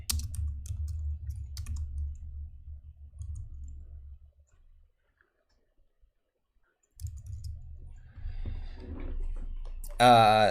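Quick clicking keystrokes on a non-mechanical Apple computer keyboard come in two bursts separated by a few seconds of silence, close and moderately loud, with a brief voice at the very end.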